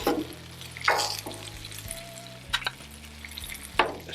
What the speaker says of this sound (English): just going to get our peppers in here and our onions